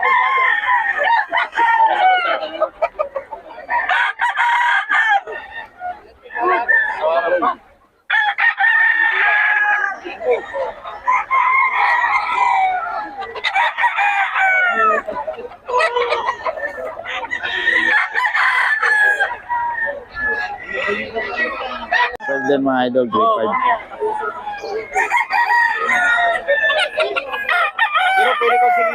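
Roosters and chickens crow and cluck repeatedly and close by, a dense, continuous chorus of overlapping calls, with someone speaking briefly among them.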